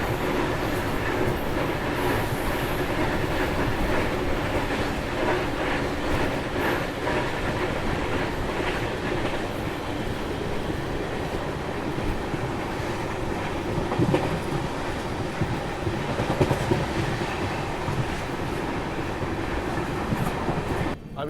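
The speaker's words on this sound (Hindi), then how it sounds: "सामने कुर्दवाड़ी जंक्शन हमारी ट्रेन पहुंच रही है" Train running on rails near Kurduvadi Junction on the Karnataka Express, heard from aboard with a steady loud rumble and rhythmic clickety-clack of wheels over rail joints for about twenty seconds, with no voices.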